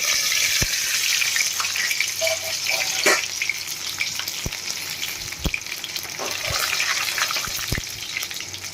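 Curry leaves frying in hot oil with already popped mustard and sesame seeds, a strong steady sizzle with scattered pops and a few scraping stirs, no one speaking.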